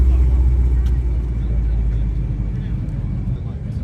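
A Chevrolet Camaro rolls into a Saturday night car meet in an IHOP lot. A deep low engine rumble idles close by and eases slightly as it passes, with people talking nearby.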